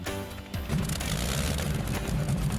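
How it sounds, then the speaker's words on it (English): A radial engine on an almost 60-year-old aircraft: a deep, steady rumble with a throaty low drone that thickens and grows louder after a brief start, running continuously nearby. "Mark started the radial engine to a nice rumble."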